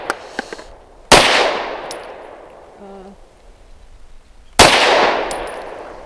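A Ranger Arms RA9 pistol fires Norma range training 65 grain rounds outdoors: two loud, sharp gunshots a few seconds apart, each with a long fading echo, and faint clinks between them.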